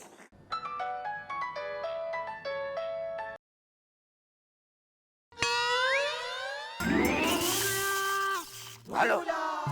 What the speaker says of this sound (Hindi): भैया का फोन बज रहा